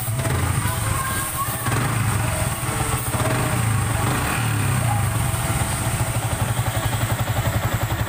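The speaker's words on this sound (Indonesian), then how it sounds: "Suaranya kuduk-kuduk-kuduk-kuduk-kuduk di bagian belakang kopling." Rough-running Yamaha Vixion motorcycle engine with a knocking fault at the clutch block, a steady close idling drone with rapid rhythmic clatter throughout, loud and continuous.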